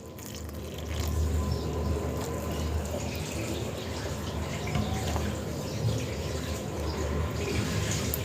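Small amounts of water added by hand to soft naan dough during mixing, giving a steady close wet hiss and squelch that runs continuously throughout.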